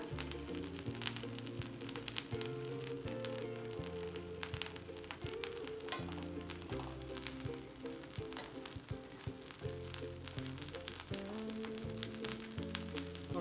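Sandige fryums roasting in hot salt with no oil, giving a steady soft sizzle and crackle at close range, with low background tones running throughout.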